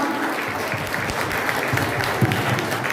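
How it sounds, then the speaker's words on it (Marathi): Loud applause from a crowd at a Marathi jayanti celebration, a continuous dense wash of clapping that holds steady to the end. "आपण ही जयंती साजरी करतोय ते एक जोरदार टाळ्या व्हायला पाहिजे"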